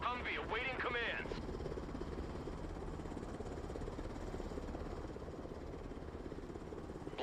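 A Blackhawk helicopter in the video game Broken Arrow drones with a steady, dense rotor and engine rumble, after a brief voice at the start.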